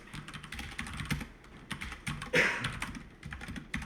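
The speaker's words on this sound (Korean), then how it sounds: "컨트롤 N 누를 겁니다." Computer keys pressed on a keyboard, a shortcut combination tapped amid scattered clicks and light typing, close and moderately loud with no voice.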